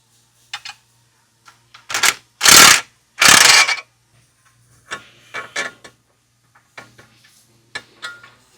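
The upper knuckle mounting bolt on a CFMOTO UForce U10 suspension is worked loose: close metallic ratchet clicks, two loud sustained mechanical bursts, then scattered clicks and clinks of tools and hardware.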